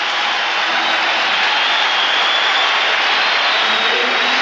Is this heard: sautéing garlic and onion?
no